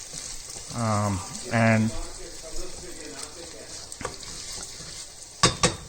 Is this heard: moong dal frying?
yes